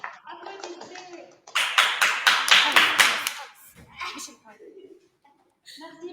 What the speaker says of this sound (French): Bravo! Applaudissez!